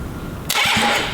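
The starter of a Honda Valkyrie motorcycle, whose starter relay is suspected to be faulty, kicks in suddenly halfway through. It gives a loud, close, whirring crank that continues to the end, with no voices.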